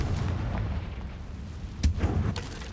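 A fiery blasting spell goes off in a wizarding video game, a sharp booming burst near the end of a rumbling low backdrop, with no voices over it.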